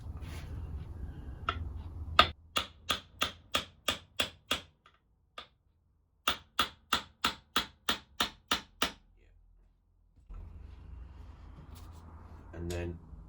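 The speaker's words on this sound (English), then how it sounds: "hammering into the middle of the fret and going to the edges, it compresses the fret down" Hammer tapping frets into a guitar neck fingerboard during a PRS kit guitar build: two quick runs of about eight sharp, evenly spaced metallic taps each, close and clear, with quiet workshop room sound between.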